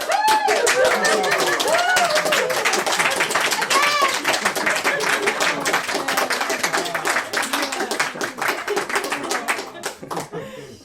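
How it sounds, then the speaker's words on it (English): Rapid continuous hand clapping from a group at a music gathering, loud and close, with voices mixed in, gradually thinning toward the end. "Hand clapping, check."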